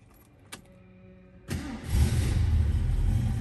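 A 1968 Mercury Cougar's starter cranks after a couple of faint clicks, then a steady low engine rumble fills the rest of the moment, close by.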